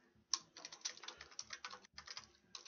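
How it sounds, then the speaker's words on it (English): A computer keyboard typed on in quick, uneven bursts of crisp clicks, close and fairly quiet, with one brief pause partway through and no voices. "what is going on with my keyboard?"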